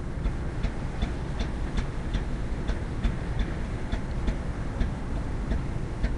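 Pump running at a fracking site, a steady rumbling drone with a regular ticking beat pulsing through it, continuous and moderately loud, with no talking.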